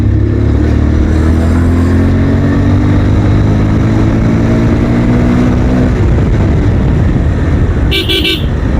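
A Bajaj Pulsar motorcycle is ridden with a steady, loud engine drone and heavy wind rush throughout, and a short horn toot sounds near the end.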